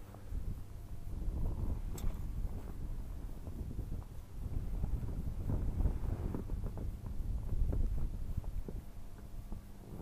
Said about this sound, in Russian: Ветер целый день меняется, прям крутит.